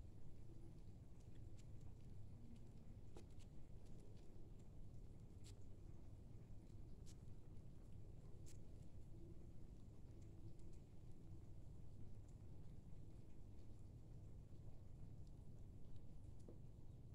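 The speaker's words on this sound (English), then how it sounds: "I hope the sound of the rain's not bothering you." Steady rain pours down with a low, continuous rumble of distant thunder beneath it, a dense even wash of sound with a few faint clicks and ticks scattered throughout and no voices.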